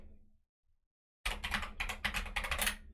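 Computer keyboard typing during a Rust roguelike game coding session: after about a second of near silence, a dense, steady run of quick, close keystrokes clatters on without pause.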